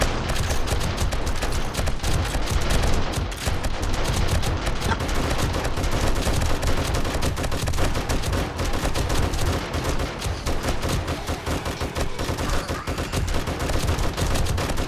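Rapid, sustained gunfire from the video game 7 Days to Die during a night horde fight outdoors in VR, dense overlapping shots firing continuously and loudly throughout with no pauses.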